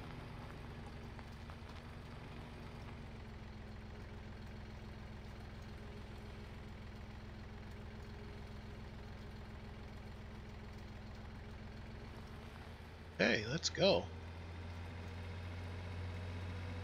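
A tractor engine in Farming Simulator 17 drones steadily at idle-to-cruise, a low constant hum throughout, with a brief louder mechanical burst near the end; a voice speaks briefly.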